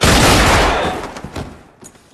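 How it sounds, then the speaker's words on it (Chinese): A loud burst of gunfire in a Chinese martial-arts film scene, a dense volley that crashes up close and then decays into scattered echoing shots. "开枪！"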